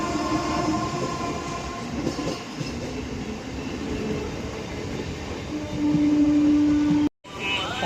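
A train runs along the line approaching Powerpet railway station near Eluru, a loud steady rumble of wagons and wheels throughout, with a sustained horn tone near the end before a brief cut.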